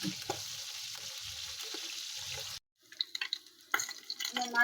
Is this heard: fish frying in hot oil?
yes